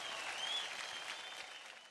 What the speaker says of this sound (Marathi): जोरदार टाळ्या होऊन जाऊ दे आपल्या धन्नोसाठी